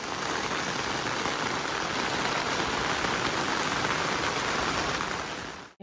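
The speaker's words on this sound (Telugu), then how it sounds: "ఇప్పుడు వర్షం చూడండి" Heavy rain pours down on a campsite at Lake Arrowhead State Park, a dense, even hiss that holds steady throughout before cutting off abruptly at the end.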